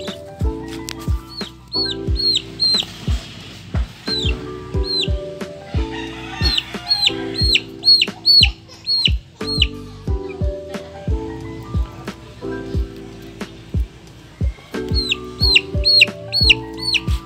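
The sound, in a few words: Rhode Island Red chick clucking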